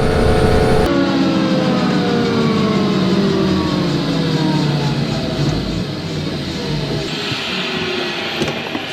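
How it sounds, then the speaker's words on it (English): Loud, continuous helicopter engine roar heard from inside the cabin on a passenger flight, with a whining turbine tone, droning steadily throughout with no voices. "not entirely sure how much you could really hear over the noise of the engines"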